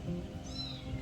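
Kittens on a homestead meow, one close, drawn-out rising cry standing out clearly over a murmuring, steady background.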